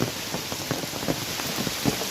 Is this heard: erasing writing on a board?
no